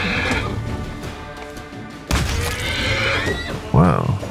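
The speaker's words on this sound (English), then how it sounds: "Oh, plagued horse." A plagued undead horse in Pathfinder: Wrath of the Righteous lets out a loud, rising whinny near the end, over game music and battle crashes and thuds, with a voice talking earlier.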